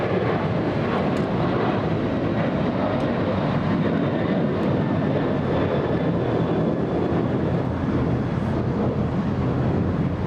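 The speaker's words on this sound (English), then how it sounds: "We have another Alaska Airlines plane. This one lifting off right now." An Alaska Airlines jet lifts off at LAX, its engines producing a loud, steady, broadband roar that holds evenly throughout with no voices over it.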